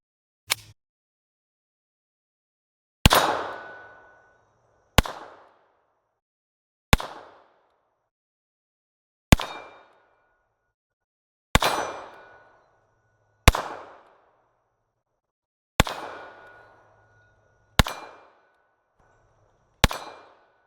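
Ten sharp .380 pistol shots of 95-grain full metal jacket target rounds striking 3/8-inch mild steel plate at 15 yards, each a loud crack with a ringing metallic clang, fired in a steady rhythm about two seconds apart.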